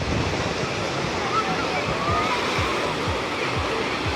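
Sea waves at Anapa beach on the Black Sea, a steady washing surf with repeated low sloshing surges, continuous and fairly loud, with shallow water and swimmers in the setting.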